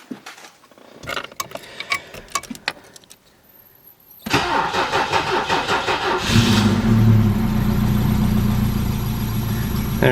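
A car that has sat unused for about three weeks: clicks and cranking sounds come first, then the engine catches and settles into a loud, steady idle. A rise in revs follows, and a fan runs alongside it.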